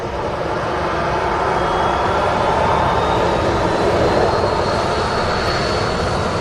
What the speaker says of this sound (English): Unbelievable view there, the Emirates A380.